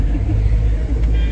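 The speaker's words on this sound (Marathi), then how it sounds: "आता गाडी फिरवली" A car engine rumbles low and steady as the vehicle turns around on a foggy monsoon road to Lohagad fort, a continuous close drone with no pauses.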